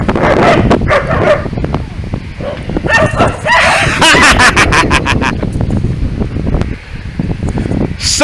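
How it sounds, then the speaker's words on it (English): Six dogs behind a fence bark loudly and close, in rapid overlapping bursts with yips and whines, continuing in irregular volleys throughout. "Six of them behind the fence. That makes 10 on the day. Dogs."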